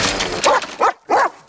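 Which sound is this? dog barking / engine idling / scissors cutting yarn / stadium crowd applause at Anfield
dog barking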